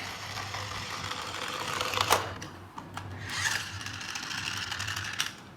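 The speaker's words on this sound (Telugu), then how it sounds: "and this is concrete mixer" A toy sound card plays a concrete mixer effect, a tinny mechanical whirring and rattling with a few clicks, fairly faint and close.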